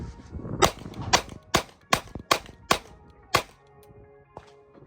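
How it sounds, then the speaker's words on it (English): An Echelon 4.0c pistol fired into the dirt on an outdoor range, seven sharp, loud shots in a fairly quick irregular string, each with a short ringing tail, then quiet. "I'm just gonna shoot into the dirt because I'm just trying to test feel and recoil"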